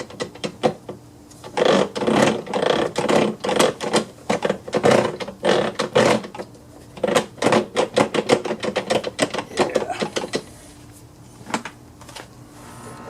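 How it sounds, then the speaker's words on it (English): A Husqvarna AWD riding mower's drive pulley and gears are turned slowly by hand, producing loud bursts of rapid mechanical clicking and rattling that pause and resume over several seconds. "So you can see when I'm rotating the pulley here, these are rotating very slowly"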